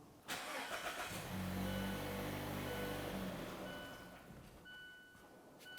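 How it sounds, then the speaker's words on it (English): A 2014-2018 Mazda 3 engine cranks with its fuel pump disabled, a steady rhythmic churn of the starter lasting a few seconds before fading, fairly close and loud with no one talking. "we're going to attempt to start the vehicle"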